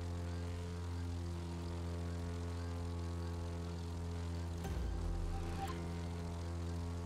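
An airplane engine in The Crew 2 racing game drones steadily and evenly throughout, with a brief louder rushing swell about two-thirds of the way through.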